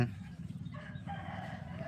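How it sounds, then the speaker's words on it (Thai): A rooster crows at moderate distance, one drawn-out call rising over a steady low rumble of background noise on what seems to be a rural homestead. "โอ้เสียงไก่ตีขัน"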